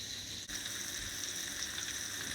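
Chicken frying in a pan for a creamy chicken dish, giving a steady, close sizzle of broad hiss that runs unbroken throughout with only a brief dip near the start, and no talking.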